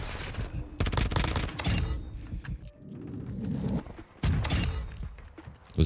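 Rapid gunfire bursts in Call of Duty, played with mouse and keyboard, rattle out in clustered volleys separated by brief lulls, fairly close and loud with game noise between.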